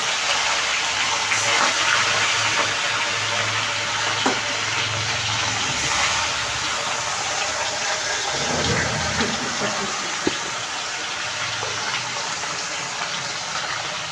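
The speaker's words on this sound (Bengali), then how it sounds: "তেল গরম হয়ে গেছে, মাছগুলো দিয়ে দিই।" Bhola fish dropped into hot oil for a Bengali eggplant fish curry, a steady loud hissing sizzle with a bubbling surge partway through, voices talking faintly beneath.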